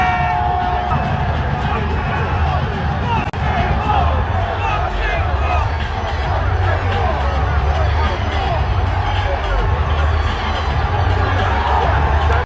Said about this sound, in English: the entire crowd started chanting, "Fuck Jake Paul," during this event